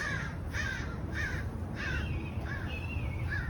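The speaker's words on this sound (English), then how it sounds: "Hi, crows." Several crows caw in short harsh bursts, roughly one every half second, at moderate distance over a steady hiss of ambient noise, agitated by a nearby hawk.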